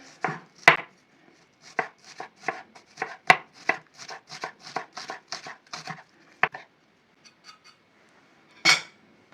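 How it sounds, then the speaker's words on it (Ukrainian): Green onions chopped finely with a knife on a board, a quick run of crisp, close knocks in a rapid rhythm, with a few louder isolated chops before and after. "додаємо цибулю. Ріжемо дрібненько."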